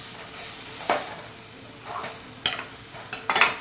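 Ginger-garlic paste and green chillies fry in oil for egg curry, a steady soft sizzle broken by a few sharp stirring scrapes near the end, close and fairly quiet with no talk.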